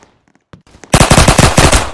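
Rapid automatic gunfire in the Roblox game Emergency Response Liberty County, a few faint clicks and one shot before a loud, sustained burst of fire.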